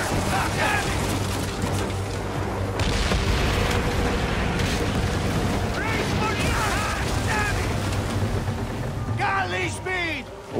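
Ship cannons boom in a naval battle in Assassin's Creed Origins, with heavy low rumbling blasts and clattering debris layered under dense game noise, while voices shout and talk throughout.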